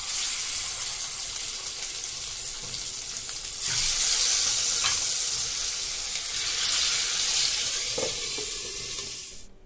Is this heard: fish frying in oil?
yes